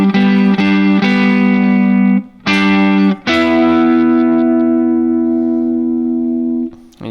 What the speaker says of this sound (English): using those to create these double stops here